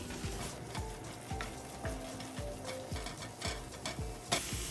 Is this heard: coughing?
no